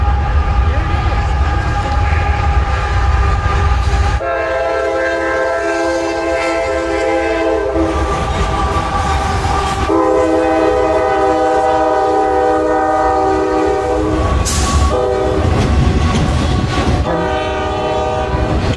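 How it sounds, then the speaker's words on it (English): A train rolls past with a loud, long horn sounding in sustained blasts, rumbling rail noise underneath, with people talking over it. "I hear the train coming."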